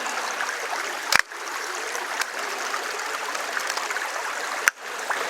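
A small stream runs beneath an overhanging fern near a waterfall, giving a steady broadband rush of flowing water throughout with no talking, broken by two sharp clicks from a medium format film camera.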